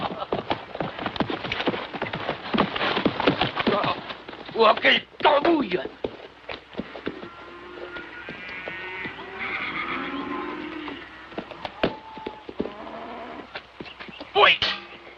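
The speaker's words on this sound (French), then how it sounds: "Tu t'es dompté un bon cheval." A ridden horse's hooves clatter in an irregular clip-clop alongside occasional whinnies, with people talking in French over the hoofbeats throughout.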